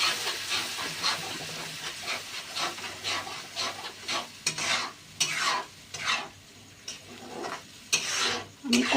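Spinach stirred and frying in a pan with fried spices and sugar, a steady sizzle broken by repeated scraping strokes of a utensil, close and moderately loud with no talk.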